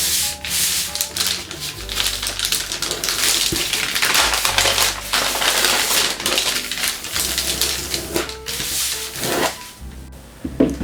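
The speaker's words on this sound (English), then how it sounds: "we're going to make a mountain fold that goes all the way down like that" Paper being folded and creased into an origami mountain fold for a Ryujin 2.1 dragon head, with steady close rubbing, sliding and crinkling plus a few sharper creasing snaps, continuous and without speech.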